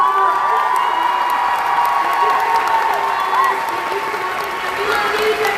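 A comic con crowd applauds and cheers for an actress, with sustained clapping, scattered whoops and shouts, and voices calling out over the din at close range.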